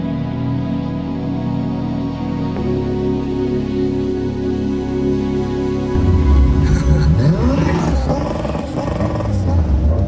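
A Toyota AE86 drives along with a steady engine hum that steps up in pitch, then breaks into a louder, rising rev with sweeping tones, close and continuous throughout.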